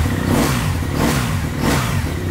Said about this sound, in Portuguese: Dá esquentadinha, que eu acabei de ligar ela agora, né? Primeira partidinha do dia, não pode judiar